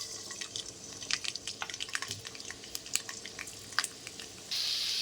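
Garlic roasting in hot oil in a pan, a soft continuous sizzle dotted with crackling pops and spatters, ending in a steadier louder hiss.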